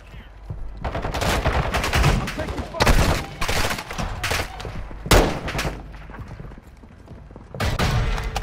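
Bursts of automatic gunfire in the Call of Duty DMZ video game on the Al Mazrah map, several loud volleys with short gaps between them, heard during an online match.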